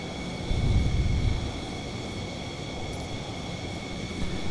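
A small aircraft taxis toward the fuel area, a steady engine hum with a louder swell of rumble early on, heard from inside the cabin without any talk.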